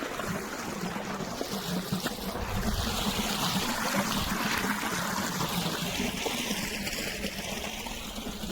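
Water gushes steadily from an electric pump motor into a new well on a sugarcane farm, a continuous broad splashing rush with a low churning rumble, constant in loudness throughout.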